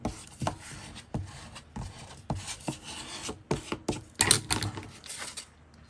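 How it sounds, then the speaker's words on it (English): A squeegee rubbing paper down flat in a scrapbook craft project, with a series of short rasping strokes at an uneven rhythm, close and fairly loud, and no talk. "let me squeegee it all down just to make sure."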